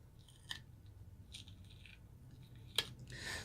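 Quiet, sticky tearing and peeling noises, a few short crackly bursts as the thin membrane is pulled away from pork ribs, up close.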